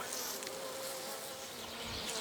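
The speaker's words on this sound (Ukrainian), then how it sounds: "Ну ось подобаються мені такі бджоли." Bees of a local forest breed at a hive, a dense continuous buzz close by with a steady hum and no talk.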